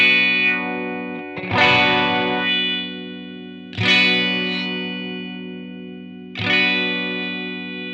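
Electric guitar played through an EQ pedal set for bright, Fender-like boosted highs: three sustained distorted chords struck several seconds apart, each ringing out and slowly decaying, close and loud with no talking.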